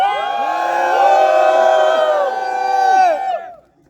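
A crowd at a superbike meetup on a bypass road in Meerut hoots and cheers loudly in many overlapping rising and falling voices, holding steady for about three seconds before cutting off abruptly.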